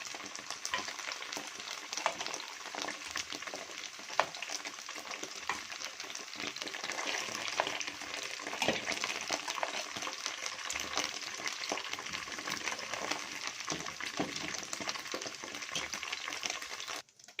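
Sausage sizzles in a pan, browning after being turned over, with a steady, bright crackling fry that holds level throughout before cutting off sharply at the end; no voices.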